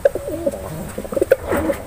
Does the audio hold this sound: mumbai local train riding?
no